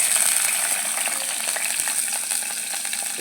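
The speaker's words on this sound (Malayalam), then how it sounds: "ചൂടായി വരുമ്പോൾ നമുക്കതിലേക്ക് വെളുത്തുള്ളി ഇഞ്ചി ഇട്ട് കൊടുക്കാം" Garlic and ginger drop into hot coconut oil in a clay pot and fry with a loud, dense, continuous sizzle close by, with no talking.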